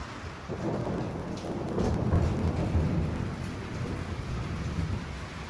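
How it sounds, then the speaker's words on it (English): Heavy thunderstorm over a chateau guest house, with dense, steady pouring rain and low rolling thunder swelling in the middle, loud and continuous with no voices. "That's a crazy storm."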